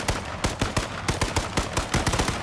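Rapid, evenly spaced gunshots in the game H1Z1, a steady string of close, loud reports firing roughly every fifth of a second with no talking over them.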